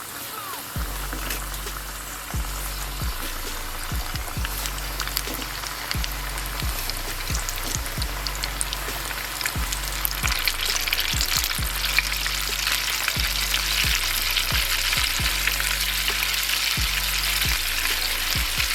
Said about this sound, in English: I got my oil at 350 degrees. I'm about to drop these shrimp in.